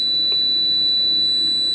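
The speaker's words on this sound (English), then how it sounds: "it'll stay beeping like this, buzzing. The alarm's going off" A homemade photocell alarm system's buzzer beeps continuously in a fast, steady pulsing pattern with a high piercing tone, loud and close, no voices.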